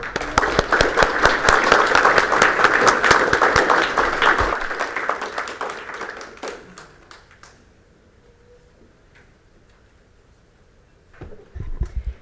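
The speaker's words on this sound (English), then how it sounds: "I would like to give them just one more round of applause" A round of applause, dense clapping for several seconds that fades into near silence, then a short burst of claps at the end.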